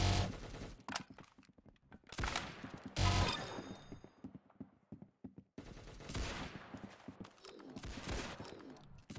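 Bursts of gunfire in the Roblox shooter game Arsenal, sharp rapid volleys of shots separated by short gaps, loud and close, with no talking.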